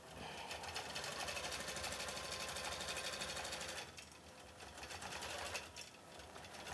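A sewing machine stitches a quilt in a fast, even mechanical whir of rapid needle strokes, loud and close, pausing briefly before resuming at a slightly lower level.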